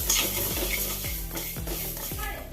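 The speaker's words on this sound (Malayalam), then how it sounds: "ആദ്യം ഉലുവ ഇട്ട് കൊടുത്ത് ഇനി പൊട്ടി വരുമ്പം കടുക് ഇട്ട് കൊടുക്കുക" Fenugreek and mustard seeds dry-heating in a pan for a turmeric pickle, with a spoon scraping through them in steady strokes about every half second over a soft continuous hiss.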